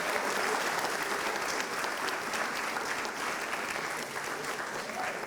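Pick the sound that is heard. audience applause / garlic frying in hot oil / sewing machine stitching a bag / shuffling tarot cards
audience applause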